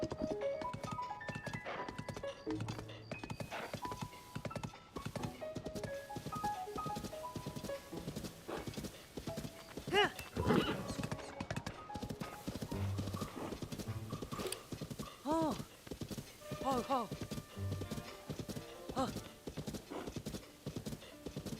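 In Zelda: Tears of the Kingdom, a horse gallops with continuous rhythmic hoof clops and lets out a few neighs, all at moderate level.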